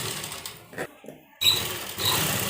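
A sewing machine stitches a one-piece A-line kurta in short bursts of close mechanical whirring, broken by a near-silent pause before the stitching resumes steadily.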